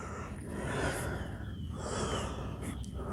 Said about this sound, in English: Let her sit here just a second and catch her breath.